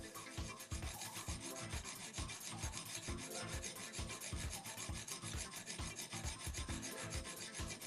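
A knife blade rubbed against a sharpening stone or file to raise a burr, a continuous rasping scrape in quick, even back-and-forth strokes, close and fairly loud, with no talking.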